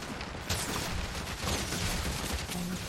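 Gunfire in Guild Wars 2 during a solo run of a level 76 story-mode dungeon, a dense, continuous volley of shots and impacts that stays loud for the whole short stretch.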